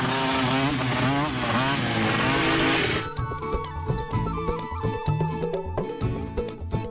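Cartoon motorcycle engine revving in a comic chase scene, a loud sustained whine that breaks into choppy, sputtering bursts with music and effects around it.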